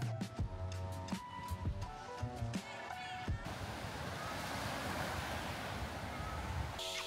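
Ocean surf at Haeundae beach in Busan rushes in as a steady broad wash with some wind, taking over after a few seconds of tonal music and heard at moderate distance.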